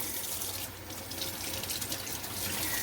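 A tap runs steadily into a kitchen sink while food is rinsed, a loud, continuous close hiss and splash of water that holds for the whole stretch.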